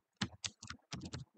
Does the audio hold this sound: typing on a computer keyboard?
yes